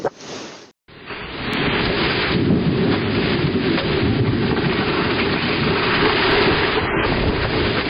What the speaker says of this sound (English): Strong winds and a thunderstorm knocked a large tree onto a car in front of a house.